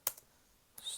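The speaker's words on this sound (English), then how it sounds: "I'm going to hit enter" A computer keyboard's Enter key is pressed, giving two quick, faint clicks spaced apart in a quiet room, with a lighter tap following near the end.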